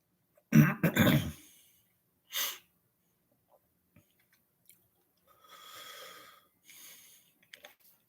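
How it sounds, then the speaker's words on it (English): Man with a bad sinus problem clearing his throat, a loud rough rasping burst followed by a shorter second clear, then quiet breathing and small mouth noises. "going to be clearing my throat a lot"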